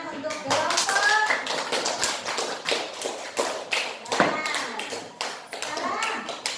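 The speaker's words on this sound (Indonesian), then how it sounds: "Tepuk tangan untuk kelompok." A classroom of children claps for a group of students after their presentation, scattered uneven clapping and taps mixed with chatter and a teacher's voice.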